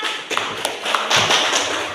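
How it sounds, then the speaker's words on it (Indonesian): A classroom of students applauds a student group with a brief burst of quick, scattered clapping, fairly loud and close, rising slightly toward the end. "Kasih tepuk tangan sama kelompok 4."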